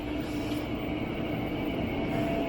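Train No. 782 sits at a platform of Andong Station, its steady rumbling drone and mechanical hum filling the space continuously without voices.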